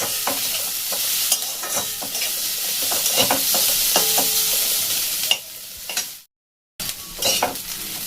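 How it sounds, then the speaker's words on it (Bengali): Grated coconut and onions sizzle loudly in a pan while a spoon stirs and scrapes in quick strokes. The frying fades into a short silence before resuming, and nobody speaks. "নারকেল খুব ভেজে নেব একটু।"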